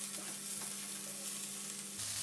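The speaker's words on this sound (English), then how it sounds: "Just gonna let that cream bubble away" Cream bubbling away with butter in a pan beside pan-fried flat fish, a soft, steady low sizzle and gentle bubbling throughout, fairly faint and without voices.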